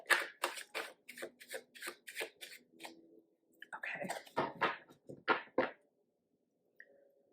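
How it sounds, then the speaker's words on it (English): Tarot and oracle cards get a quick riffle shuffle, a run of rapid crisp papery flicks up close, then a few scattered slaps and clicks as the deck settles. "I already shuffled these, but I always give them a little quick shuffle."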